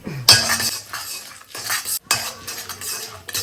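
A spoon stirs lentils with a teaspoon of cumin in a metal pan, giving scraping, clinking strokes against the pan in short bursts with a brief pause midway, close and fairly loud with no talking.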